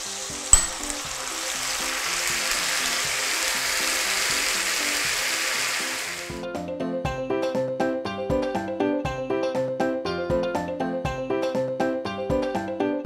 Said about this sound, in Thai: แล้วก็เคี่ยวไปเรื่อยๆนะคะรอให้น้ำเนี่ยมันงวดลงค่ะ